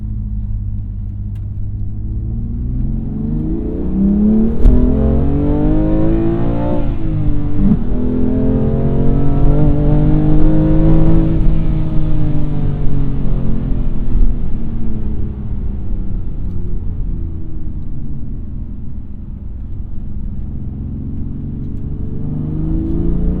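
A BMW M2 Competition on the move, its engine note rising and falling in a steady, loud drone with deep low rumble and harmonic sweeps as revs change, with no speech over it.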